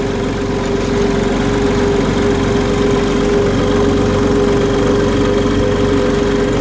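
A tractor engine runs steadily at close range, a loud, continuous low rumble with a constant hum and no voices.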